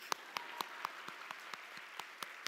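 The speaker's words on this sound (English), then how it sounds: "Oh yeah, let's clap." Audience clapping at a women's achievement awards ceremony in West Michigan, heard as a scattered, fairly faint round of claps with sharp individual slaps spaced every quarter second or so over a hushed room.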